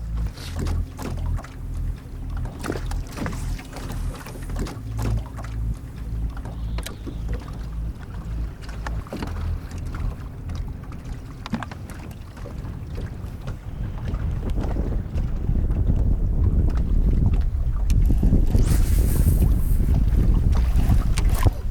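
Steady wind rushes over the mic on a lake during bass fishing from a boat, a low buffeting roar that swells louder in the last seconds, with water and hull noise beneath and no talk.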